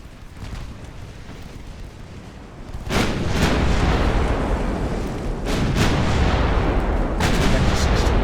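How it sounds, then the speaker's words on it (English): Heavy naval main guns fire armor-piercing rounds in Ultimate Admiral Dreadnoughts, with loud booming blasts at about 3, 5.5 and 7.3 seconds that roll into a sustained rumble of ongoing fire after a quieter opening. "Continue firing AP rounds on your main guns."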